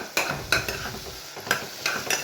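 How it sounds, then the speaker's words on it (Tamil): Tomato and ginger frying in a pan for a mushroom vegetable kurma, with a soft sizzle and a few sharp spoon scrapes and stirs against the metal, close up and with no voices. "ஸோ டொமேட்டோ நல்லா ஃப்ரை ஆகிட்டுருக்கு"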